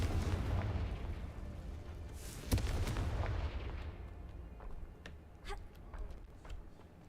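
Confringo fire spell blasts in the game Hogwarts Legacy, heard as a rumbling, booming explosion with one sharp burst at its peak, then fading crackles and smaller pops.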